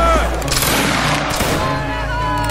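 A Roblox Campaigns battle erupts in a loud, dense volley of musket-style gunfire, many shots overlapping in a rolling crackle before settling into a sustained rumble.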